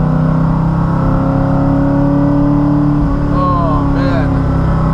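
Inside a Porsche Cayman fitted with a swapped Ford Coyote V8 making 425 wheel horsepower, the engine drones loud and close while the car downshifts, with brief pitch shifts in the rumble and a voice briefly audible.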